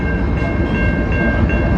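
A train locomotive, a second engine at the rear, rumbles past close by in North Dakota, a loud, steady roar with sustained horn-like tones and no voices.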